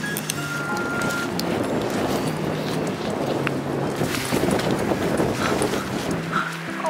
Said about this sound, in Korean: 아, 바람 좀 불지 마.